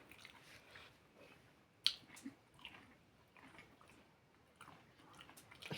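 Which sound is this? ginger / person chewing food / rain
person chewing food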